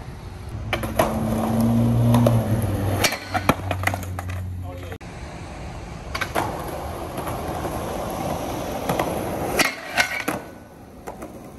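Skateboard pole jam at an abandoned gas station: wheels roll loudly over concrete, then sharp clacks and impacts as the board hits the pole and lands, with talking and outdoor noise around it.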